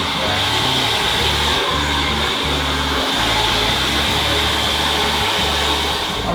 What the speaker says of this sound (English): I'm almost finished my blow dry. This is just round brush